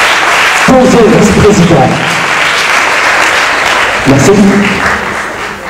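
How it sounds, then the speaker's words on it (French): Steady applause from a debate audience fills the clip, with someone speaking briefly in French over it twice. "On l'applaudit, s'il vous plaît."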